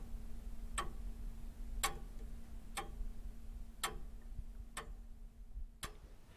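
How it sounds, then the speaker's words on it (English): Ticking clock, with six sharp, evenly spaced ticks roughly one second apart over a steady low hum, close and moderately loud. "Ticking clock of Saint Pasquale."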